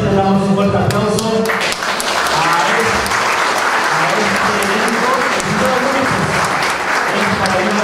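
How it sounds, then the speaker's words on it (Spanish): Steady, fairly loud applause from those present at an agreement-signing ceremony between officials, with a speaking voice and some background sound layered over the clapping. "Y todos los presentes damos un fuerte aplauso."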